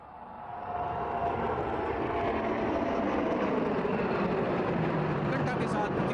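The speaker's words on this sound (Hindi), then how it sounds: "आगमन होता हुआ P-81 विमान को दो अन्य MiG-29 विमानों के साथ हम देख सकते हैं पोसाइडन फॉर्मेशन में।" A P-8I maritime patrol aircraft flies over the 2015 Indian Republic Day parade with two MiG-29 jets in formation. A broad, steady jet roar swells in over the first second and then holds loud throughout, likely with a commentator's voice over it.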